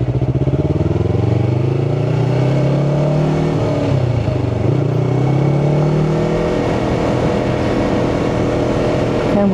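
Close, loud engine of a Yamaha R3 motorcycle while riding, a steady buzzing drone whose pitch climbs, dips midway and rises again as the rider works throttle and clutch, with no talk over it.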